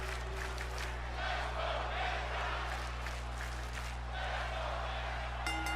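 A wrestling crowd cheers and roars throughout a Money in the Bank qualifying match involving Penta and JD McDonough on Monday Night Raw, forming a dense, steady arena wash with a low hum beneath.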